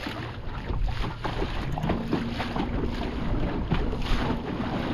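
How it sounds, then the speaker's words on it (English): A small boat pitches through big waves, giving a steady rush of water and hull noise mixed with heavy wind buffeting the microphone, continuous and fairly loud, with no voices. "Look at these big old waves for this little boat."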